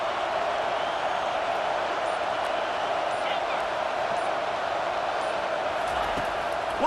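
Stadium crowd noise in EA College Football 25 rolls as a steady, dense roar at an even level throughout, with faint voice-like murmurs mixed in.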